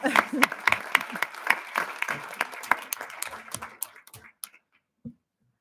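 A room full of people at a board of education meeting claps enthusiastically, the applause dense and close before thinning out and stopping, with a final lone clap.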